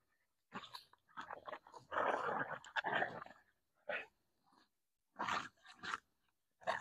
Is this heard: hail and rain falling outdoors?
no